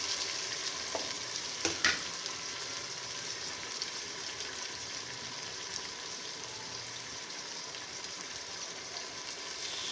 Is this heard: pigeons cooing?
no